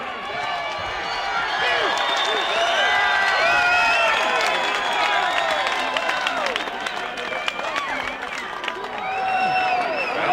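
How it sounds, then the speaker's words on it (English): Boxing crowd cheering and shouting at ringside near the close of the 8th round of a Phil Jackson vs Keith McKnight fight, a dense sustained roar with whistles and scattered claps, loud and continuous throughout. "the crowd certainly enjoying it at ringside."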